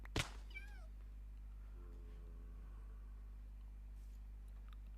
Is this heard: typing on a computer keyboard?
no